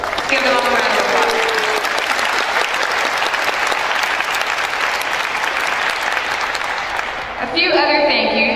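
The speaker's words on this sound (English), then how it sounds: "Give them all a round of applause" Sustained audience applause at a spelling bee, loud and dense for several seconds, with a voice in the room at the start and again as the clapping fades near the end.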